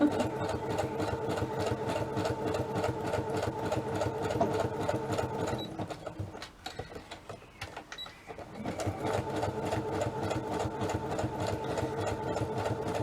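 Sewing machine running a quick zigzag stitch on card stock pockets, a steady close mechanical whir with a rapid rhythmic pulse that pauses briefly midway, then resumes at full speed.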